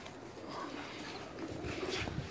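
Rooftop loft pigeons of Sialkoti bloodline coo continuously, a dense layer of low throaty calls close by, with a few slightly louder phrases near the end and no speech.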